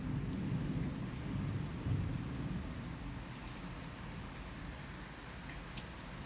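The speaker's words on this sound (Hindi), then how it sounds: "अभी बारिश हो रही है और बिजली बहुत ज़्यादा कस के कड़क रही है।" Steady heavy rain falls with low rolling thunder rumbling through it, loud and continuous with a stronger rumble near the two-second mark, no voices.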